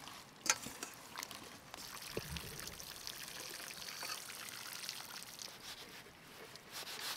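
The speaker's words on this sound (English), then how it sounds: "Then a rinse with clean water" Foraged morel mushrooms get rinsed under clean water, a faint continuous pouring and trickling stream with a few small splashes and clinks, no talk.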